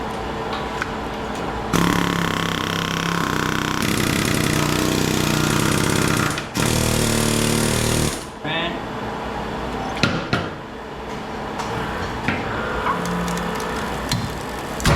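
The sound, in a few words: air hammer hammering on a generator stator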